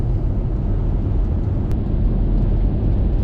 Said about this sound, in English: Very light traffic today